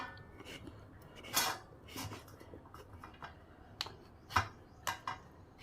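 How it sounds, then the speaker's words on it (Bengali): A knife cutting a large papaya in a home kitchen: scattered sharp taps and clicks of the blade against fruit and board, irregular and fairly close, with quiet gaps between them. "পেঁপেটা আমি কাটবো বড় পেঁপে"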